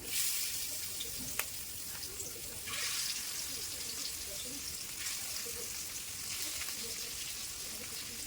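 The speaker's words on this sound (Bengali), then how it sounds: "তেলটা গরম হয়ে গেছে, তারপর গ্যাসের চুলাটা কমিয়ে দিয়ে এখন মাছগুলো এক এক করে দিয়ে নেব" Fish pieces frying in hot oil on a tawa over a lowered gas flame, a faint steady sizzle with a few soft crackles and light clatters on top.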